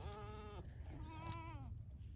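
Kiko goats bleating inside a barn, two drawn-out wavering bleats close by, the second rising and falling, over low steady background rumble.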